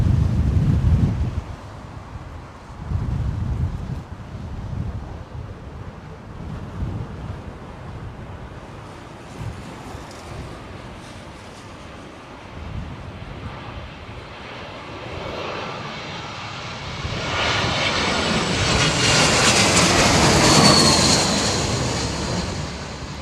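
An airliner landing in high winds at Heathrow Airport: a steady jet engine roar under heavy wind buffeting on the microphone, building to a louder rushing swell near the end, with no voices.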